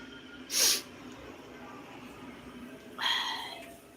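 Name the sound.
sneeze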